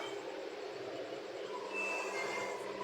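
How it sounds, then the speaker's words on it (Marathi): A slow-moving toy train in Sayajibaug park rumbles steadily along its track, a constant close rolling roar with a faint high squeal rising briefly partway through. "ट्रेन पण फास्ट नाही, एकदम स्लोली चालते"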